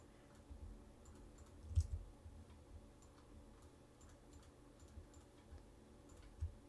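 Soft mouse clicks while working in Photoshop, scattered irregular taps with a few louder ones, faint and close against a quiet background with no talking.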